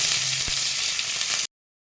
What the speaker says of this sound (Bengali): একটু পেঁয়াজ কিছু অল্প করে এগুলো একটু ভালো করে ভাজা ভাজা করে নেব